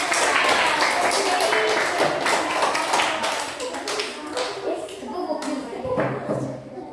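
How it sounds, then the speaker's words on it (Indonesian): A classroom of students clapping for a group of classmates, a dense burst of close hand claps with some voices mixed in, tapering slightly toward the end. "mari kita berikan tepuk tangan untuk kelompok 2"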